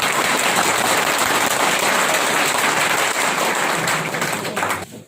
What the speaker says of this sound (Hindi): तालियों की गड़गड़ाहट हो जाए